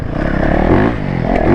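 A two-stroke dirt bike engine races nearby, a loud continuous buzzing roar whose pitch wavers and climbs briefly as it revs, with a faint scrape or clatter.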